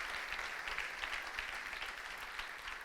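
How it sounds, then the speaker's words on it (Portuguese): A church congregation applauding together, a dense, steady wash of clapping that continues evenly for a few seconds with no break. "Vamos aplaudir mais uma vez ao Senhor"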